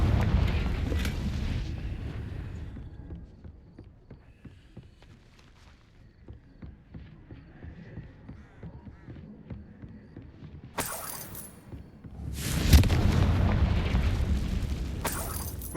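Confringo fire spells explode in Hogwarts Legacy: loud booming blasts open the scene, quieter footsteps and movement follow, then another pair of heavy bursts erupts near the end.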